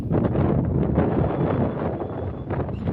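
Wind blowing over a soybean field buffets the microphone with a loud, continuous low rumble and rustle, with no pause throughout.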